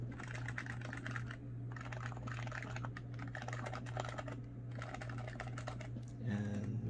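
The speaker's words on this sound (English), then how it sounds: "So this is stock, and the spacebar doesn't sound the best." Steady, fast typing clatters on a stock HHKB Professional Hybrid Type-S keyboard, with dense close keystrokes and brief pauses, ending with a few heavier spacebar-like hits over a low hum.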